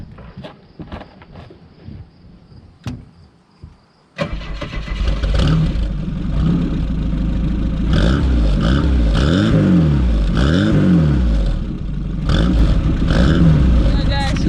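An Opel GT engine fitted with a Weber 32/36 carburetor is cranked after some quiet handling noises, catches with a sudden loud start, then runs and revs unevenly close by, with a voice talking over it.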